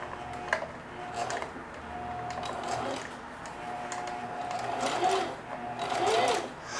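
A sewing machine stitches denim in a steady mechanical whir with a fast ticking rhythm. It runs close and fairly loud, rising and falling slightly, with faint voice sounds now and then.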